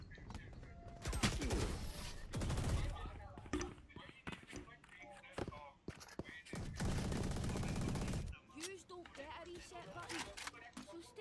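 Rapid bursts of gunfire from a competitive shooter match, with sharp cracks and two sustained volleys of automatic fire, loud and close, while a player talks between shots.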